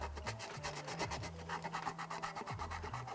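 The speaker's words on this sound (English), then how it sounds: "just grab something like this and give it a good old etch" A plastic soil pipe being roughened by hand with an abrasive to key the surface, giving a steady rasping scrape in repeated back-and-forth strokes, close and fairly loud, with no talking.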